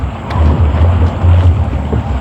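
Strong wind buffets heavily across open water, a loud, low rumbling roar that surges and eases over a couple of seconds.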